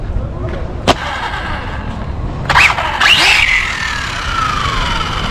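A fast second-hand RC car, rated for 160 km/h, gives a sharp knock, then a high electric motor whine that rises and slowly falls away over steady outdoor noise.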